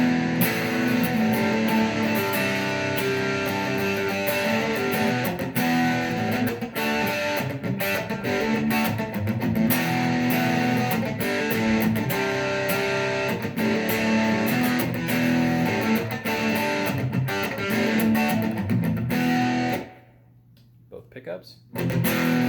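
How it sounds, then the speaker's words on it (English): Michael Kelly 20th Anniversary Hybrid Special electric guitar played through overdrive, a thick distorted tone with sustained chords and riffs running continuously before briefly dropping out near the end. "we'll go through some overdrive and tones"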